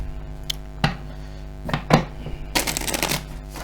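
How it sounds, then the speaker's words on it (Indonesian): Tarot cards being shuffled by hand in a few separate bursts, with a longer riffling run near the end, close and fairly quiet with no talking. "3 kali shuffle lagi dan kartu ini siap untuk dipakai oleh Cancer."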